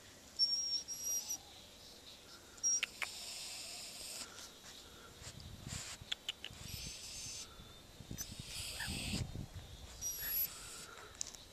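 A raccoon gives strange, faint calls, with soft hissing and high squeaky bursts coming and going at irregular moments over a quiet background.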